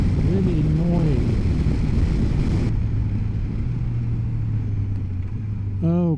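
Suzuki GSX-S1000GX motorcycle accelerating on the road, its engine pitch climbing through revs and then holding a steady drone under heavy wind rush, with a rider talking briefly at the start.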